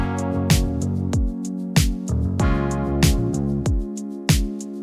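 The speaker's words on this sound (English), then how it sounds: "We also had the live bass guitar and the first set of keys." Live bass guitar and the first layer of keyboards ride over a disco-pop drum beat. Sustained keyboard chords and a moving bass line sit under regular snappy snare and kick hits, full and steady with no one talking.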